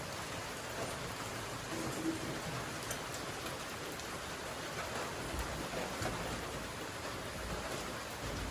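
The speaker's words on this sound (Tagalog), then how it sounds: "Sige ra manig ulan ay." Steady rain falls outside, a continuous dense patter of drops on surfaces with no pauses, moderately loud and close, and no voices over it.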